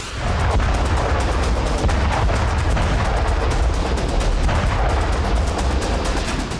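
Continuous heavy rumbling missile and bomb blasts from Armenia–Azerbaijan fighting overlap in a loud, dense barrage with sharp cracks throughout, no voices.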